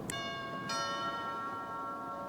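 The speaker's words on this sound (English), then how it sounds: "even being so considerate as to ring the doorbell" Two bright bell chimes ring out, the second sustaining with a long, clear ringing tone that slowly fades; no talking.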